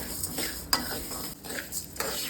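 Cumin seeds and spices are dry-roasted and stirred in a pan for a Telangana-style garlic chili powder, with a spoon scraping in repeated close strokes over a faint sizzle.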